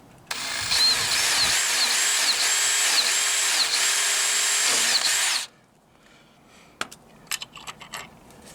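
A power drill with a 4.5mm bit bores through a footpeg mounting plate on a Reliant 850 trike, whining steadily for about five seconds with slight pitch dips, then stopping and giving way to a few light knocks and clinks.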